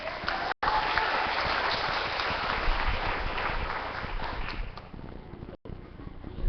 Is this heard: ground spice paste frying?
no